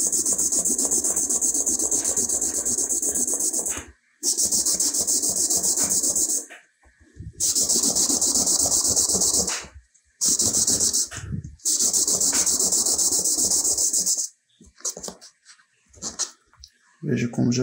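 Coin metal is rubbed on 400-grit sandpaper for a pendant in long, loud, close rasping passes that stop and start in bursts, with a voice speaking between strokes.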